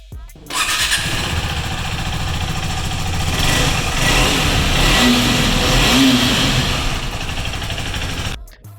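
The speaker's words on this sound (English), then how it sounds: "let's get into the exhaust note" A 2020 KTM 390 Adventure motorcycle engine fires up and revs repeatedly, its deep exhaust note rising and falling loudly and close by, with no talking.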